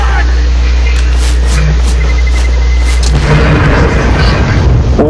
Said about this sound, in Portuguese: que explosão do caramba!